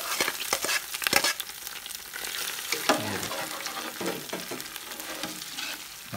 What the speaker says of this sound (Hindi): अब इसमें हम ये जो फ्राई किया है देसी घी में, प्याज और देसी घी इसमें डाल देंगे